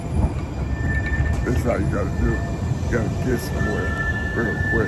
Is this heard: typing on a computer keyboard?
no